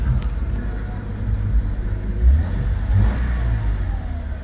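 A Subaru Forester with a 2.5-litre four-cylinder engine, all-wheel drive and 131,000 miles, revs up in a low, steady rumble that swells twice, heard close and alone with no talk.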